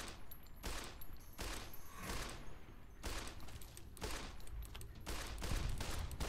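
Gunfire in the video game Fallout: New Vegas, a rapid series of loud, close shots in quick bursts that repeat steadily for several seconds with little pause.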